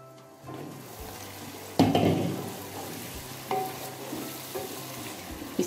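Spices fry in a pan for chicken pulao, a soft steady sizzle punctuated by several sharper stirring scrapes, fairly quiet and with no talking.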